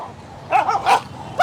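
Street dogs in Sri Lanka bark and yip in short bursts, two quick close barks followed by a louder final one, with no talk over them.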